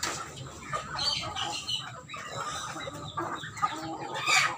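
Chickens cluck and squabble nearby on a farm, a busy overlapping chorus of short calls rising and falling as they compete over food with ducklings.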